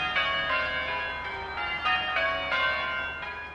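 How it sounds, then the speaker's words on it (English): Church bells peal from a floating belfry on the River Thames at the start of a royal river pageant, a loud, ringing sequence of overlapping strikes with sustained resonance and no speech. "The bells marking the start of the pageant."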